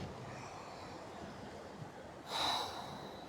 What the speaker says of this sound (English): Taking a deeper breath.